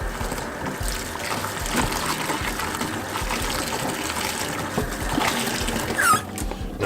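Running water rinses out a kitchen fryer, a steady gushing wash with splashing close by that holds for several seconds, no talk over it.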